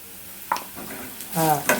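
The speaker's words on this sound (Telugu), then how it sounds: "బాగా ఎర్రగా వచ్చిన దాకా వేయించుకోవాలి" Atukula upma ingredients frying in a pan until reddish, with soft sizzling and a few scraping stirs of a spoon, close and fairly quiet.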